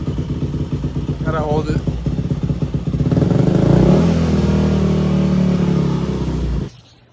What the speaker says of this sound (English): the Yamaha is having like an idling issue right now